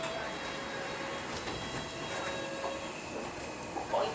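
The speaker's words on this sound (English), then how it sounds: "This is Wembley Park, overtaking Jubilee line trains." A London Underground Metropolitan line train runs past Wembley Park, with a steady rumbling roar and a faint high whine, heard from on board with no talking.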